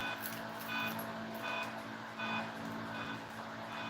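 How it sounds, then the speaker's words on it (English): A car alarm beeps repeatedly in a steady rhythm, roughly one beep every half second or so, faint and distant over outdoor background noise. "So, somebody has a car alarm."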